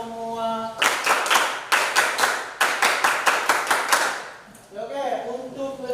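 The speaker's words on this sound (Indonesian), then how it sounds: "Tepuk tangan semua." Students in a classroom clap in several short rhythmic bursts of sharp, close handclaps, with speech before and after.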